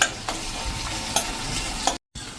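Chili pieces dropped into hot oil for a bottle gourd dhokli curry sizzle steadily, punctuated by a few sharp scraping stirs from a spoon in the pan, close and clear, with a brief silent break near the end.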